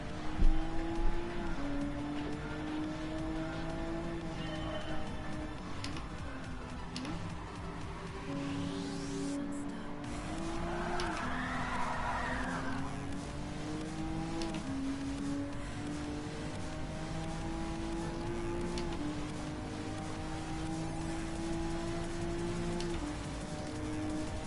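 Race car engine from Gran Turismo Sport droning steadily throughout, its pitch rising and falling through gear changes, with a brief smeared tyre-skid texture midway; constant and fairly loud, no talking.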